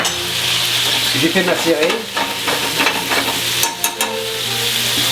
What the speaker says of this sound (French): Je déglace vinaigre rouge, une cuillerée d'estragon frais haché.